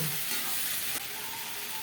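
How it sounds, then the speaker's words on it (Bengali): Broad beans frying in a pan while being stirred: a constant close sizzle with light scraping and a sharp clack near the middle, no voices. "শিম ভাজা করব"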